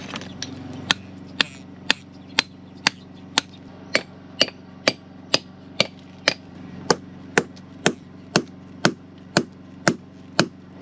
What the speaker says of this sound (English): For the bigger feather and wedges, I might need a bigger hammer.